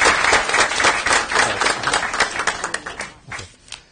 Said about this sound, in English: Okay, round of applause, please.